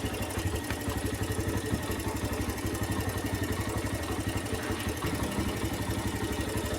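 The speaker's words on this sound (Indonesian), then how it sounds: "Posisi mesin nyala ya." A Honda Thunder 125 motorcycle engine idles with its ignition being tested, giving a steady, even, close putter that runs unchanged throughout with no talk.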